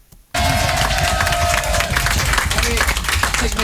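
Radio studio audience on NRJ bursting into loud applause and cheering, a dense wash of clapping that starts abruptly and carries on steadily to the end.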